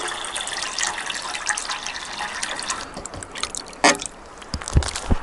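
Water runs from the hose of a black PVC solar shower with a Schrader valve, a soft steady trickle and splash outdoors, with a few brief drips and taps near the end.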